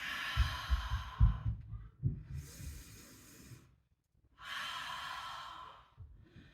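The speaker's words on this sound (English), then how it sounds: "Inhale through the nose. Exhale through the mouth." Slow deliberate breaths during a power vinyasa yoga session, drawn in through the nose and released through the mouth, with close, airy inhales and exhales separated by quiet pauses.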